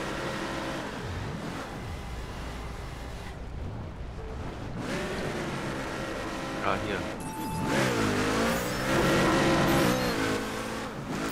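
A dragster engine in The Crew Wild Run revs and roars under excited talk, building to a loud, rising wail near the end as the car launches.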